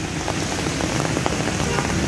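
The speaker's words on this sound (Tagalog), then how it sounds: "At pakalakas ng ulan dito ngayon." Steady, dense rain pouring down and spattering on a hard surface, a continuous loud hiss with scattered drop hits throughout.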